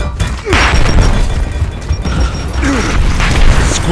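A grenade goes off in a video game shooter, with a loud, close boom and crashing debris amid ongoing battle noise and mechanical clatter.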